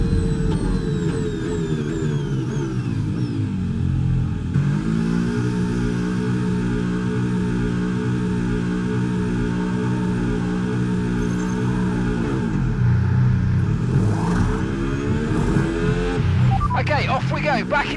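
A race car in F1 26 accelerates out of the pit lane, engine whining in steady rising and falling tones, loud and close, with a brief pitch drop and surge near the end.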